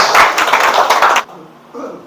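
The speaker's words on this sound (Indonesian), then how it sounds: "Berikan tepuk tangan buat Tuhan Yesus." A church congregation claps together during a Christmas sermon, a dense, loud burst of applause that cuts off abruptly, followed by a brief faint voice.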